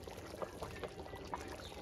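A ladle scooping mutton curry gravy from a village cooking pot, soft close liquid sloshes and a few light pours repeating over a low background, no one speaking.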